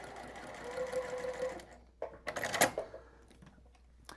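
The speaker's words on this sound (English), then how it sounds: "I know that I'm sewing right down the line" Sewing machine stitching half-square triangles for a quilt, a steady close whirring run of needle strokes that stops, then a few short bursts and handling clatter before quiet.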